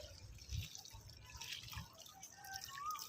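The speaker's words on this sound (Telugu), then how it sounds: "ఇలా పోసుకోవాలి నీళ్ళు" Water poured by hand onto a terrace garden plant bed, producing soft, irregular splashes and trickles with a few louder gulps, close and fairly quiet.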